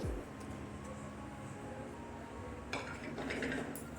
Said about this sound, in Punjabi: ਮਿਕਸ ਕਰ ਦਵਾਂਗੇ ਡਰਾਈ ਫਰੂਟ ਪਾ ਕੇ ਚੌਲਾਂ ਨੂੰ